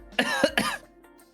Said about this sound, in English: I can make a cough sound, but only if you'll make one first.